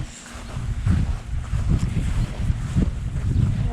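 Gusty outdoor wind buffeting the microphone on a breezy summer day, low rumbling surges that swell and ease in uneven pulses, with no speech.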